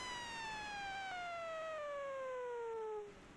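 A siren wails past with a single steady downward-gliding tone that falls in pitch throughout and then cuts off, heard alone and fairly clear without talk.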